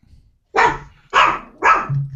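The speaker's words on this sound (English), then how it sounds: "The dog is displeased." A dog barks three times in quick, loud, close succession, with sharp bursts separated by short pauses and a low growl-like tail after the last one, with no speech.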